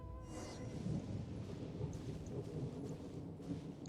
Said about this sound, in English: Thunder and lightning can be quite frightening, but don't worry.